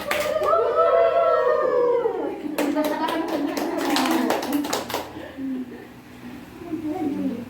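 Rhythmic group hand clapping for the tepuk pitik clapping chant, a run of sharp, quick claps in the middle that is mixed with voices chanting and talking before and after.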